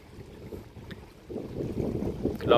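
Gusty wind buffets a microphone beside a large dam, a low rumbling flutter that builds from faint to stronger and bursts near the end, with no one speaking.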